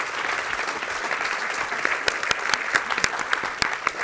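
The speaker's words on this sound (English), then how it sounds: "I think another round of applause is in order for all of these women." A room full of people gives a round of applause at a civic gathering on Chicago city finances, with dense, steady clapping throughout and a few sharper, closer claps near the end.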